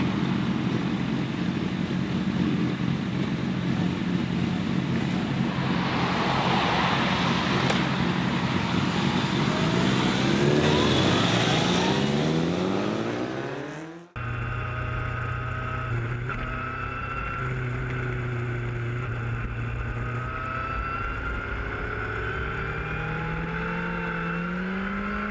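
Motorcycles ride the winding Blood Mountain road, their engines droning loudly and steadily with rising and falling pitch sweeps. Partway through, the sound cuts abruptly to a different, lower engine drone that carries on steadily.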